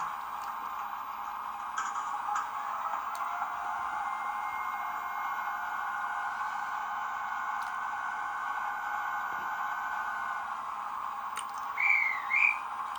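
A Heljan Class 33 model diesel locomotive's sound-fitted compressor runs as a steady, fairly faint mechanical drone over the idling engine, with a few small ticks and a brief squeaky chirp near the end.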